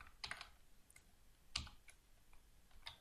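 Code is typed on a computer keyboard, a few quiet, close key clicks in short bursts with pauses between them, without speech.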